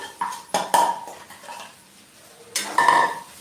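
Sabudana khichdi with potatoes stirred in a pan over low flame: a spoon scrapes and clinks against the metal in a few sharp strokes, a quiet pause, then more scraping near the end.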